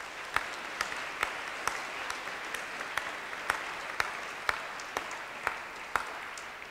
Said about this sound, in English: you should give him a round of applause for that